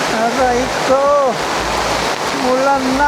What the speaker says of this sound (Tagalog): Baha na, oh. Umulan na naman.